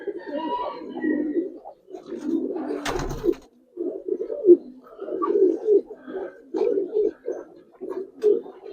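Giribaz Bagha pigeons from a large collection coo repeatedly in low, throaty, rolling bursts, close and fairly loud, with a few brief higher noises between the calls.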